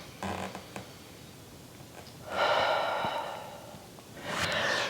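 Breath pushed out through the mouth during a Pilates stretch on a reformer, with a couple of soft, airy exhalations standing out, the longer one in the middle, and no talking.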